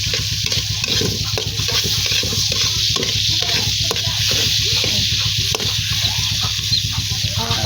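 Onions sauté in a pan for a mussel dish, a steady close sizzle with frequent scraping stirs running through it, no voices.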